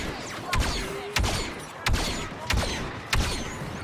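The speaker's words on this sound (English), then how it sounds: "Oh, I'm getting shot right now." Gunfire in Star Wars Battlefront 2 comes in sharp repeated bursts, about five loud cracks at roughly half-second intervals over a busy battle din.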